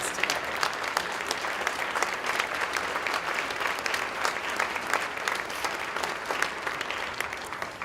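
Audience at an Arc Summit of Hope event gives a long, steady round of applause for Community of Hope members, continuous dense clapping from a large crowd, moderately distant and even throughout.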